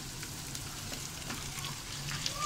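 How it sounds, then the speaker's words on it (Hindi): Garlic and ginger paste frying with browning onions in a pan for chicken chana dal, giving a steady, close, even sizzle that holds at one level throughout with no talk. "लहसुन हम अब थोड़ी सी भून लेंगे,"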